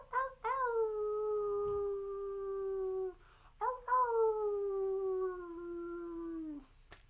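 People imitating a wolf howl at the close of a group meditation session, two long, sustained, steady howls, each rising at the start and trailing off at the end.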